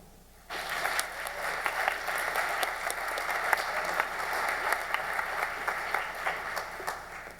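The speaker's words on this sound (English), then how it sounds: "let's have another round of applause" Steady applause from a campus gathering audience, many hands clapping together at a constant density after starting abruptly, sustained and fairly loud with no voices over it.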